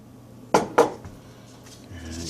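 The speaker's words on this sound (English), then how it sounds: "Let's get another scoop of our rocket candy." Rocket candy propellant being scooped and packed into a cardboard firecracker tube: two sharp scraping clinks close together near the start, then quieter handling noises and a faint low hum.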